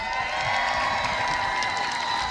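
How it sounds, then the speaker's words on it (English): Rally crowd at a union and Social Security march applauding and cheering, a dense, steady wash of clapping with scattered shouts throughout. "Can we give him one more round of applause?"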